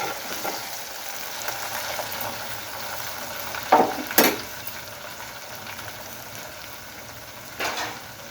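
Curry leaves sizzle in hot oil while a gongura and chana dal curry cooks: a steady, close frying hiss with a couple of sharp pops and clatters near the middle.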